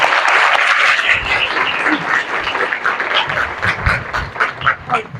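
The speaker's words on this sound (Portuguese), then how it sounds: "Uma salva de palmas para a professora Patrícia Morelato" An audience at a Unesp research centre event applauds to welcome a botany and ecology professor: a burst of dense clapping that thins toward the end, with a few scattered louder claps.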